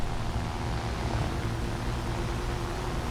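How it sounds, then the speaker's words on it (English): A steady, droning propeller engine of an MS-410 aircraft in a combat flight video game, broadband and continuous with no breaks, heard alone without talk. "So this aircraft here is the MS-410."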